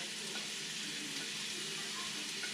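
Onions sizzling steadily in hot bacon fat inside a cast iron Dutch oven, a dense, even hiss with faint crackles throughout, close and moderately quiet with no talking.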